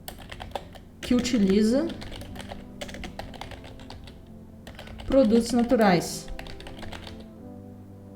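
Computer keyboard typing in bursts of quick keystrokes while entering text for an SEO page, with a person speaking Portuguese over part of it.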